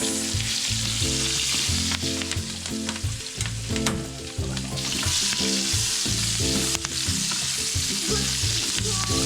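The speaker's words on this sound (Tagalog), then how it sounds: "So, magigisa tayo sa mabilis na paraan. Bawang. May kasamang balat-balat." Garlic with bits of skin still on and onion sauté in hot oil for pinakbet, a loud, dense crackling sizzle with continuous stirring throughout.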